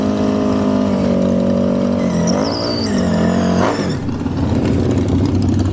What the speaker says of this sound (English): Hopefully this bike can start revving so I don't get hit with the copyright.